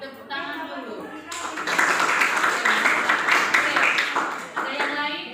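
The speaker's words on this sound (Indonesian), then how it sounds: "Tepuk tangan dulu" Students in a seventh-grade Christian religion class applaud together in a classroom, a steady burst of clapping lasting several seconds, fairly close, with talk before and after.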